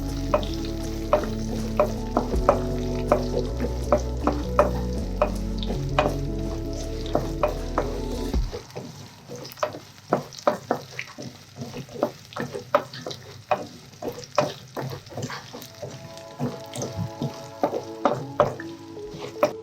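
Grated coconut and cashews sauté in a pan for a roadside-style salna, with continuous sizzling and repeated clicking, scraping strokes of a stirring spoon; background music plays over the first half, then the stirring continues alone.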